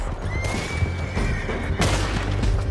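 A horse whinnies loudly in Red Dead Redemption II during a chaotic chase with riders, its drawn-out neigh rising over dense rumbling, booming gunfire and hoof noise.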